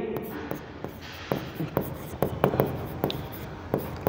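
A pen writes accounting entries on paper in a run of short, scratchy strokes and taps, close and fairly quiet.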